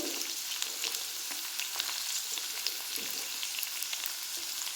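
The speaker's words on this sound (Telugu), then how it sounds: "ఎండుమిరకాయలు ఇవి ఇక్కడ ఒక టూ మినిట్స్ ఫ్రై చేసుకోవాలి" Dried red chilies fry in oil in a pan, a steady bright sizzle with faint crackles and occasional stirring scrapes, close and continuous with no voices.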